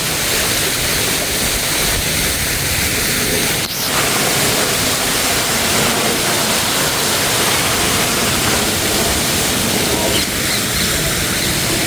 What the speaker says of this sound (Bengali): এখানে পানি ফ্লোতে নিচে নামে পানি নিচে যায় আস্তে আস্তে